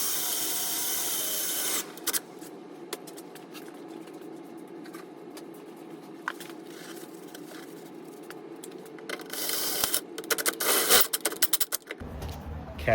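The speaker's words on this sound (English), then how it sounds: "instead we're just gonna drill right in and put a new one" A drill bores into the metal body of an EK Honda Civic, grinding steadily and close for most of the clip, with scraping, rattling bursts near the end.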